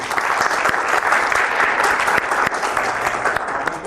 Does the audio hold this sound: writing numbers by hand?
no